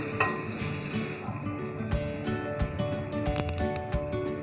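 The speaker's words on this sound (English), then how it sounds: "Now we cook it for another 2 to 3 minutes until the tomatoes become soft" Peeled seedless tomatoes sizzle and fry steadily in a pan, a close, continuous hiss broken by soft stirring and squishing noises.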